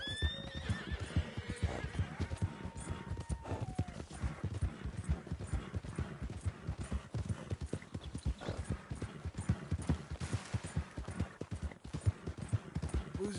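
A horse in Red Dead Redemption 2 whinnies near the start, then hooves clip-clop in a steady rhythm throughout, close and clear, with faint speech in places.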